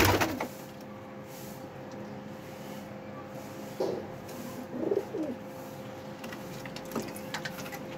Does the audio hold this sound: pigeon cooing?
yes